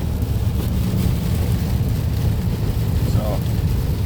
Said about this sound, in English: how well this records during the rain